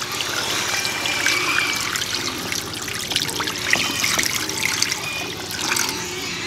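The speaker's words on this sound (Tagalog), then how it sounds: "Ayan, maglalagay na tayo ng tubig." Water poured into a pan while braising pork belly, splashing and trickling steadily and close by throughout with no talking.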